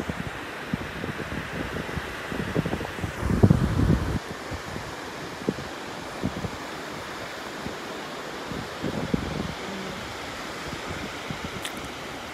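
Surf of small 1 to 2 foot ocean waves on the beach at Pawleys Island, South Carolina, makes a steady wash with a swell in the middle, under constant wind noise and with no talking.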